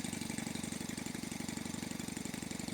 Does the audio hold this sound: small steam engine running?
yes